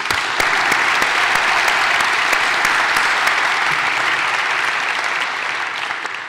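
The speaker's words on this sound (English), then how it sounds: "Let's hear a round of applause for our borrowers." A crowd claps at the grand opening of a Manhattan branch of Grameen America. The applause is full and sustained, with a few sharp individual claps standing out, and it tapers slightly at the end.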